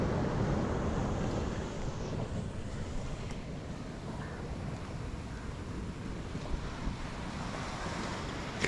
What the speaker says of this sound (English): the waves are pretty choppy, pretty rough going this morning